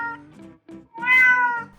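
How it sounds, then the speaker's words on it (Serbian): A domestic cat meows several times, a few short close calls followed by one longer, louder drawn-out meow, clear and alone with no other sounds. "Mačke mjauču"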